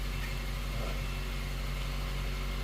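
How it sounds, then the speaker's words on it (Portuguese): Honda Fit engine idling just after starting, with a leak at the retainer and EGR and rough running that shakes the engine when stopped; a loud, steady close-up hum with no talk. "Acabamos de ligar o carro, ó."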